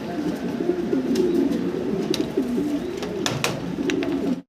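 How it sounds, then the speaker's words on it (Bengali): Grizzle racer pigeons at a pigeon farm coo steadily in a low, continuous murmur, with a few sharper bird calls and flutters breaking through. No one talks. "আফসান গ্রিজেল রেসার কবুতর, নরের পায়ে রিং আছে, মাদি রিংলেস।"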